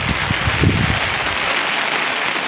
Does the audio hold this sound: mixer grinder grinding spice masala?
no